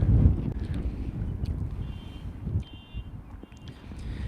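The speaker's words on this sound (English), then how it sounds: "It's really windy today." Gusts of wind buffet the microphone in uneven low rumbles, loud at first then easing, with faint high tones in the background.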